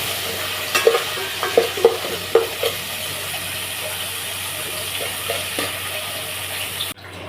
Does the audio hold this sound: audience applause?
no